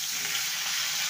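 Pointed gourd (parwal) pieces frying in hot oil after potatoes, a steady close hiss and crackle throughout with no voices.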